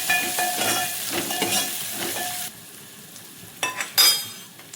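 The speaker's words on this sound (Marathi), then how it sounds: "हे सगळं एकदम मिक्स करून घेऊया हे चांगलं भाजून घ्यायचं" Ground spice paste roasting in a pan for dahi kadhi, a close sizzle with rhythmic stirring scrapes that quiets midway, then a few sharper spoon clinks.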